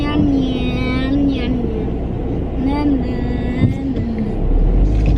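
Heavy road traffic is heard from inside a car, with a constant low road rumble and engine drone. Voices and brief tonal sounds rise over it now and then.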